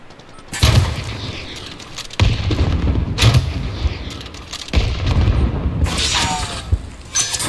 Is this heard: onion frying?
no